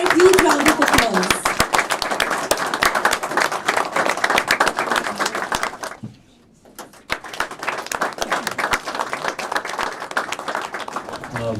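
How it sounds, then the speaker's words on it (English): Loud, dense applause from an audience at an award and scholarship ceremony, steady for several seconds, a brief near-silent gap, then clapping resuming at full strength. "let us give her a huge round of applause"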